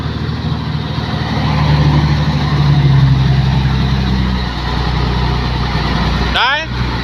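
A truck stuck and sunk in the ground revs its engine with a loud, heavy drone that swells and eases. Near the end a short, sharp chirp cuts in.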